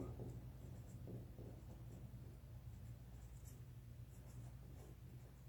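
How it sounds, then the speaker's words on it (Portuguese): Marker or chalk scratching steadily as numbers are written on a board during a math lesson, a quiet continuous scribble over low room hum with no talking. "Deixa eu escrever."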